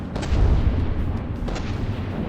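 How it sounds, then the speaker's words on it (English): A mortar fires in the naval combat game From the Depths, a deep rumbling boom that swells early and rolls on as a low, heavy roar with a few faint clicks on top. "Mortar. Let's see if that lands."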